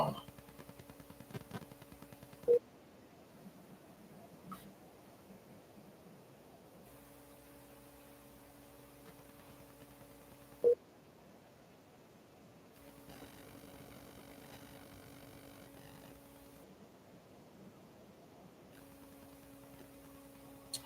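An outgoing phone call rings unanswered, with evenly spaced ringback tones broken by silent gaps, faint over low background hiss and no talk.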